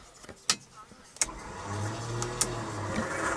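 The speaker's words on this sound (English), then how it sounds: "Oh, that's the front winch." A Ford Ranger's front winch whirs into a low, steady motor drone after a couple of sharp clicks, heard close and fairly quiet, with brief speech-like noise near the start.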